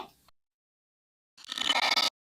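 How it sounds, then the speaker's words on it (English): A short burst of harsh, buzzy digital noise lasting under a second, preceded by a faint blip and surrounded by silence. "Go for like this glitch sound, for example."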